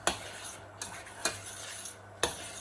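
A utensil stirs apple pastry filling in a pan over high heat, giving a few sharp scrapes and clinks spaced about a second apart over a steady low hum.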